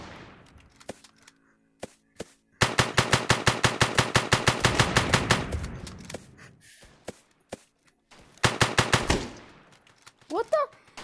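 Sniper and automatic gunfire in a shooter video game, with rapid bursts of sharp shots firing in fast rhythmic volleys, separate single cracks between them and a voice briefly heard near the end.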